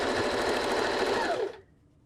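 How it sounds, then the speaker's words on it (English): Sewing machine stitching patchwork blocks together, a close, steady run of rapid stitching that stops abruptly after about a second and a half. "you sew the pairs together in blocks, and then you sew the blocks together in pairs"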